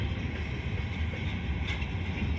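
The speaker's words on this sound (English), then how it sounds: "Enjoy the sound of just train of just bogies. Just flippity clacking down the track." A coal train's freight cars roll past on the rails a few feet from a parked car in Riverview, Florida, producing a steady, loud, close rumble with a rattling metallic texture and no voices.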